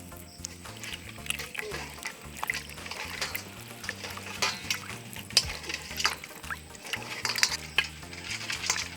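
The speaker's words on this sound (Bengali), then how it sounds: "এবার তেঁতুল নিয়ে তেঁতুল গলাবো।" Hands squish and stir tamarind pulp in a basin of water, making wet sloshing and squelching sounds that repeat steadily over background music, with no talking.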